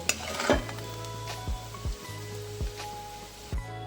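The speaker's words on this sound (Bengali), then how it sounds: "মাছগুলো আমার ভাজা হয়ে গেছে একটু লাল লাল করে ভেজে নিয়েছি এবার আমি নামিয়ে নেব" Dried loitta fish fry in a pan with a soft, steady sizzle, punctuated by several brief scraping knocks of a utensil against the pan.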